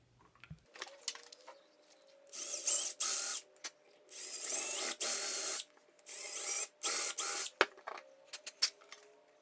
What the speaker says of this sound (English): Now I've got to change to a 5/16 inch drill bit to drill a small counterbore for this bushing in the top side.